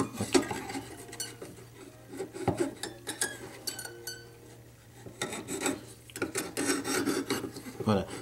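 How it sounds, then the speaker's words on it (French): Slow hand-saw strokes cutting through wood with a quiet, rasping rhythm, plus intermittent scraping and clinking handling noises at close range. "je vais devoir scier lentement le temps que les dents puissent recréer un nouveau chemin"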